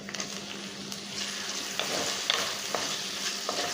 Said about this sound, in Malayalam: തക്കാളി നന്നായിട്ടൊന്ന് വെന്തുടയണം, അതുവരെ നമുക്കൊന്ന് വഴറ്റി കൊടുക്കാം.